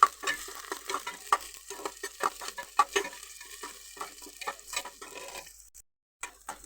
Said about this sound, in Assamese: আৰু ইয়াত দি দিলা তেজপাত, ইয়াত অলপ মিক্স কৰি লওঁ।